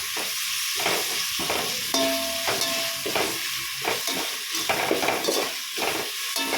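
Steady sizzling of herbs frying in hot oil for chicken biryani, with a spoon scraping and stirring the pan in repeated strokes.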